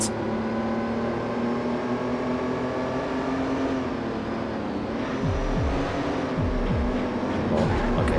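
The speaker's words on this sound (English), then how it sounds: "I need to pay attention to my revs." A race car engine in the PS2 game Alfa Romeo Racing Italiano drones and revs continuously, with a steady tone and quick rising gear-shift sweeps near the end, loud and up close.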